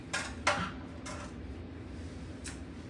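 A bowl clatters into a kitchen sink while s'mores pudding is being made, with a few sharp ceramic and metal clinks close by in a quiet room.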